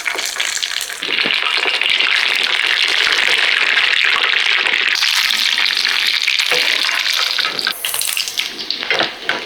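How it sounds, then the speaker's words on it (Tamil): Fish cutlets rolled in biscuit crumbs sizzle and hiss in hot oil as they deep fry, a loud, continuous bubbling crackle that runs throughout with no talk. "அடுத்ததாக ஆயில் ஊற்றி பொரிச்சு எடுத்துக்கிறோம்."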